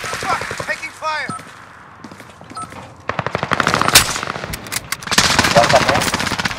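Rapid automatic gunfire bursts in a multiplayer shooter video game, loud and dense in the second half, mixed with game sounds and players talking over it.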